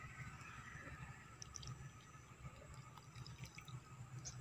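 Water is poured into a vessel of hot-washed mercury during a traditional preparation, making faint, steady trickling and splashing with small drips, heard alone and quiet.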